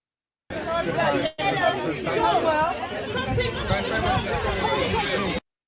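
Loud, chaotic crowd surrounding Prince William on a New York street, a dense wall of overlapping chatter and babble that holds steady for several seconds after one brief cut.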